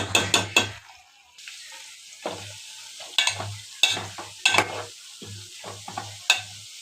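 A mixture frying in oil is stirred in a pan, with repeated close, crisp scraping strokes of a utensil over a bubbling sizzle, arriving in irregular bursts with short gaps between them.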